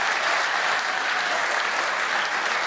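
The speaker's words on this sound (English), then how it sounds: "Give him a round of applause." Steady, dense round of applause from an audience at the FIWC 2015 grand final, continuous and fairly loud throughout with no voices on top.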